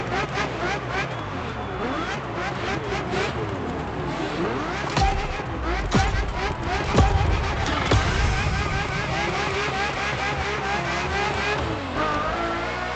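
Ferrari F50 engine in The Crew Motorfest racing game, a loud, steady high-revving drone with shifting pitch and occasional sharp bursts, while a voice talks over it the whole time.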